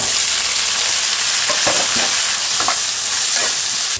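Onion sizzling steadily in hot oil in a pan after whole spices, a dense continuous fry with a few scraping stirs, close and loud with no talk.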